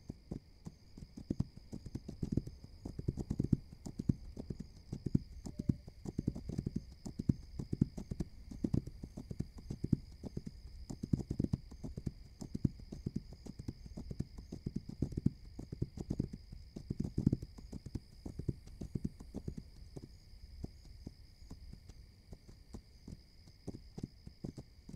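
A horse's hooves clip-clop steadily through a long ride in the settlement video game This Land is My Land, the rhythmic footfalls close and continuous over a constant high electronic hum.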